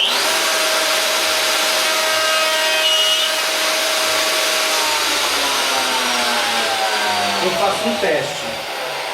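A woodworking machine cuts a test groove about 5 mm deep in a piece of wood in a home workshop. The motor whines loudly and steadily, a grinding cut builds near the end, and someone speaks briefly over the noise.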